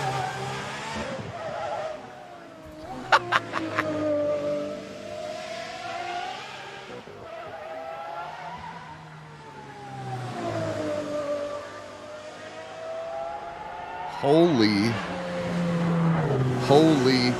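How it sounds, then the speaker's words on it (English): The track-only Lamborghini SC V12 race car revs hard at the Goodwood hillclimb. Its rising and falling engine howl sweeps up and down through gear changes, with a sharper, louder surge near the end. Voices talk over it. "this is the Lamborghini SC V12"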